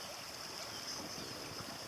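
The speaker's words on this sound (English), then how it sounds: "I don't know if you can tell how fast the water's moving, but it's clipping along pretty good." A fast-flowing flooded creek on a Texas hiking trail rushes in a steady, broad hiss of moving water, constant and fairly faint with no voices.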